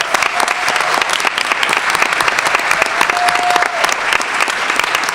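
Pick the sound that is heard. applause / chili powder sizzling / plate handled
applause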